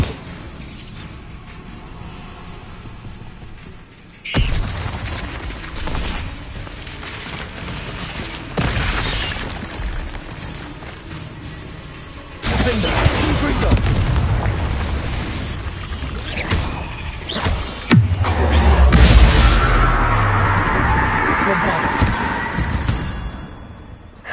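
Bombarda spells explode in the Hogwarts Legacy video game, heavy booming blasts and crashing bursts erupting in loud waves over a busy combat soundscape, with the densest, deepest rumble toward the end.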